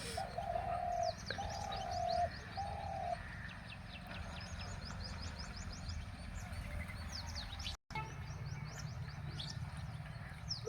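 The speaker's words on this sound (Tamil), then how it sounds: "அந்த சோளக்காட்டில் தான் மயில் குருவி கிளி எல்லாமே உட்காந்துருக்கு" Birds in a village sorghum field where peacocks, sparrows and parrots gather, giving steady overlapping chirps and calls with a few repeated coo-like notes, heard at a moderate distance over constant outdoor background noise.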